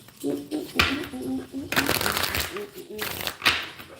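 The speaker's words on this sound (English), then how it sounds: "One more shuffle. Do the shuffle." Tarot cards being shuffled by hand in bursts of papery riffling and crinkling, close to the microphone, with pauses between shuffles and a voice talking over parts of it.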